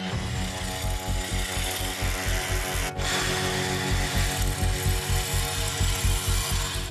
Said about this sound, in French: On perce 2 trous en bas.